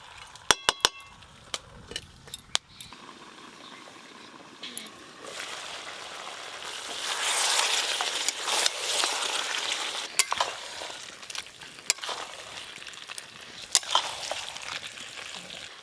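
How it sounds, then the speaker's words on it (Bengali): Mutton pieces with chopped tomato and salt being pressed and stir-fried in a pan, steady sizzling frying with scraping stirs and sharp clinks of the spatula against metal, close and continuous, with a voice talking briefly. "আমি কিন্তু চাপা দিয়ে দিয়ে মাংস ভালো করে কষবো।"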